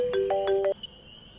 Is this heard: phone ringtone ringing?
yes